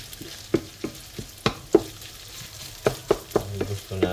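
Pork sautéing in its own fat in a pan, a steady sizzle broken by sharp scraping stirs and clinks of a utensil, close and alone.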